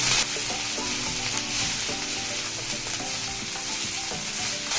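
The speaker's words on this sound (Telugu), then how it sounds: "ఇప్పుడు అదే బండిలో ఇందాక కడిగి పెట్టుకున్న పుదీనాకును వేయించుదాం ఇవన్నీ కూడా మీడియం ఫ్లేమ్లోనే వేగాలండి" Washed mint leaves fry in a pan over a medium flame, giving a dense, steady sizzle with light stirring close by.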